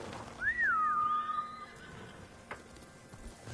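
A horse in the video game Ghost of Tsushima gives a single clear whinny, a rising then wavering squeal that trails off, heard over a quiet outdoor game ambience with a faint thump afterward and no talk.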